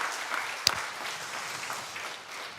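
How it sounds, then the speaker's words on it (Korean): A church congregation claps together, a steady spread of many hands with one sharp louder clap standing out early, continuing briefly without talk. "이럴 때는 교회에서 박수 한번 해도 됩니다."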